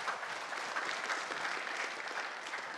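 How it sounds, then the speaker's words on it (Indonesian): Audience applause at a televised gubernatorial debate in Papua Pegunungan, steady sustained clapping from a crowd throughout, without talk. "Kita berikan tepuk tangan."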